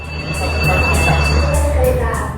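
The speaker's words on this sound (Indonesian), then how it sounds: "Beginilah suasana di stasiun kereta cepat Wush di kawasan Halim Makassar, Jakarta Timur." Busy ambience inside the Whoosh high-speed train station at Halim, Jakarta, with a steady low rumble of rail machinery and station hum under a murmur of crowd voices, fairly loud and continuous throughout.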